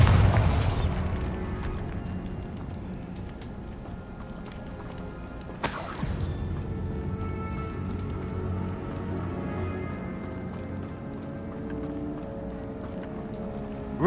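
A Bombarda blasting spell goes off in Hogwarts Legacy, a sudden loud explosive burst near the start, then a second sharp blast midway, with rumbling debris and ambient game sound between them.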